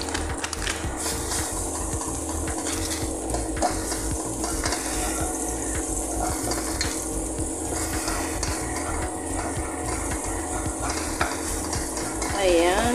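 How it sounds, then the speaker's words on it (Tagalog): Garlic sautéing in a hot pan, a steady low sizzle under regular rhythmic scraping and stirring of a utensil against the pan for several seconds. "saute lang natin hanggang bumango ang ating garlic"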